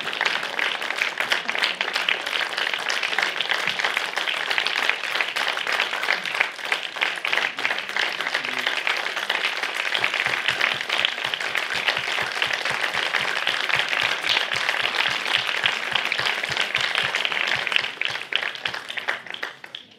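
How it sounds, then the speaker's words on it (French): Dense, steady audience applause fills a ceremony hall where a man is honoured with a decoration, many hands clapping continuously for about twenty seconds before tapering off at the end. "Merci pour ces applaudissements."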